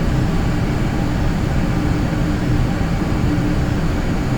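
Inside a Bombardier Learjet 45 on landing approach to Vancouver, a loud, constant low engine and airflow rumble fills the cabin without break or change.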